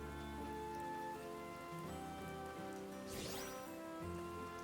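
Steady rain falls in the farming game Harvestella, a continuous hiss laid over melodic background music, with a brief brighter swell of noise midway and no voices.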